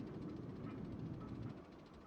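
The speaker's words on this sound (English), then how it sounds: "Any people on that train?" A train ride in the video game Planet Coaster rumbles along as a low, steady rolling roar that fades slightly near the end, with no talking over it.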